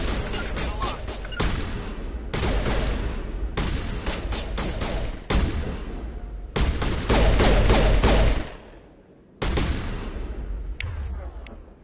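Sustained bursts of gunfire from the Mass Effect video game, loud dense volleys with brief gaps, one short lull near the end before the shooting resumes.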